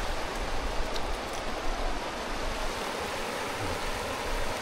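A river flowing near a tidal pool in Casiguran, Aurora, a steady broadband rush of water running continuously and fairly close, with no talk.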